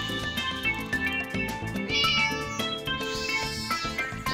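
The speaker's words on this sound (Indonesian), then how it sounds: "Ada kucing." Repeated cat meows from the farming video game Harvest Moon: Light of Hope, heard over steady, busy game background music with chiming melody, no talking.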